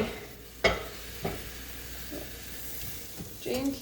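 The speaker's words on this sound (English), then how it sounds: "you're going to push your spatula under the omelette and then gently" A spatula slides under an omelette in a frying pan, giving a couple of sharp scraping knocks over a soft, steady sizzle, with a voice heard briefly at the end.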